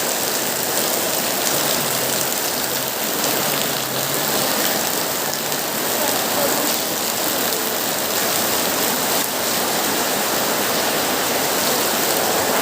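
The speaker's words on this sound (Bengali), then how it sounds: "তো আজকে আবার বৃষ্টির ভিডিও নিয়ে আইছি" Heavy rain pours down steadily in a village setting, a loud, dense, unbroken roar of falling water with no voices.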